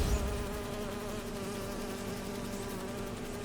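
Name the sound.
bees buzzing in Spider-Man 2 video game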